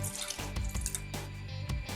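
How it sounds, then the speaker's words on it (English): Water is poured into Tetra Pak lychee juice to make a rose and lychee agar agar jelly. A steady splashing stream comes through close by, with a few brief clunks of the container and no talk. "To that I am adding water"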